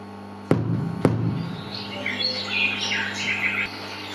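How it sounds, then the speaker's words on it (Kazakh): A sparrow call played in a children's bird-sound guessing game: two sharp knocks are followed by a run of bright chirps and tweets over a low hum, with no talk. "Торғай дауысы."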